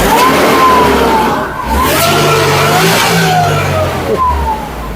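A Mercedes-Benz W202 C230 Kompressor engine, 250 hp, with a quiet exhaust, revs up hard and fast, a high whistling supercharger whine rising and falling above the roar, loud and close.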